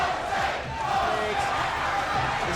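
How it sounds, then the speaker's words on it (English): A boxing-match crowd chants the name Jose in a rhythmic, roaring swell, dense and continuous, filling the arena with massed voices. "Crowd taking up a chant of Jose."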